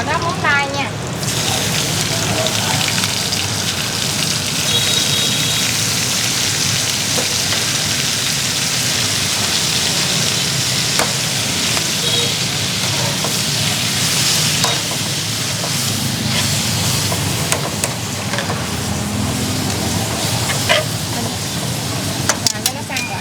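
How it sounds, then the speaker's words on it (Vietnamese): Razor clams stir-fried in a hot pan at a Vietnamese noodle shop give off a loud, continuous sizzle with repeated scraping and tossing of the utensil, close up, as people talk over it. "Rồi bây giờ mình xào tới móng tay nha."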